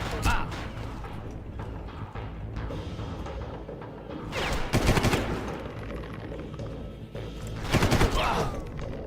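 Loud bursts of automatic gunfire in Far Cry 1 come in rapid volleys, heaviest in the middle and near the end, over continuous game background noise.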